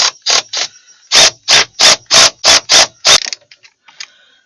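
A ratchet spins nuts onto bracket bolts during theft damage repair on a Ford F550 Super Duty truck, giving a loud close series of about ten sharp rasping clicks in bursts, then a few faint ticks.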